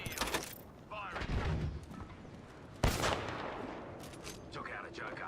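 Gunfire in Apex Legends comes as a sharp burst at the start and a loud crack near the middle, with lingering reverberant rumble and scattered clicks between, heard close up.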